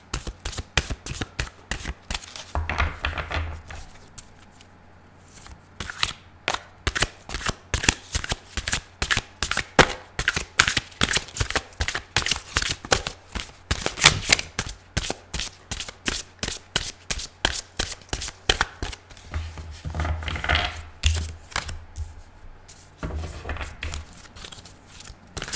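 Tarot cards are shuffled by hand in a long run of quick, crisp riffling bursts, each a close, sharp flutter, repeating at a steady pace with a few brief pauses between shuffles.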